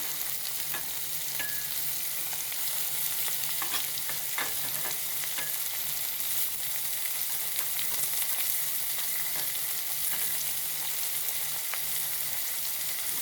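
Crushed shallots frying in oil for a sardine curry, a loud continuous hiss of sizzling with scattered light scrapes and taps from stirring, steady throughout.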